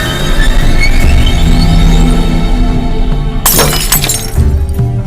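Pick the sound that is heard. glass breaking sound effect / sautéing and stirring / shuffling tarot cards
glass breaking sound effect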